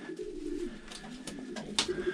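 A racing pigeon coos softly in low, rolling murmurs, with a few brief rustles and clicks nearby.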